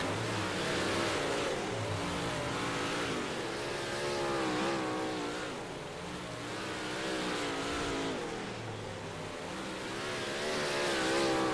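Big block modified race car engines roar steadily at Weedsport in a racing simulator game, a dense, continuous engine drone with rising and falling revs as a pack of cars runs together, loud and constant throughout.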